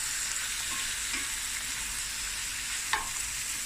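Cape Malay denning vleis frying in a pot while a spoon stirs it, a steady soft sizzle with faint scraping and one sharp clink near the end, no talking.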